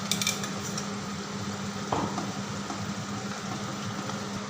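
A spoon scrapes and clinks in a pan as ginger-garlic paste is stirred into softened onions for chicken curry, faint sizzling beneath and one sharper knock near the middle.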